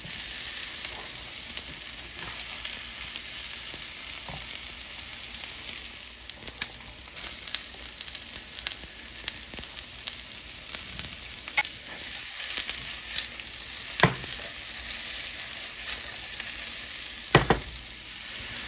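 Potatoes and onions sizzle steadily in a pan as home fries cook, a continuous bright crackle with occasional louder pops and stirring scrapes, close and with no talking.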